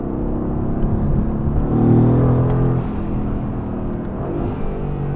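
A powerful car engine rumbles loudly, its revs climbing in a sustained roar and then settling back to a deep, steady drone.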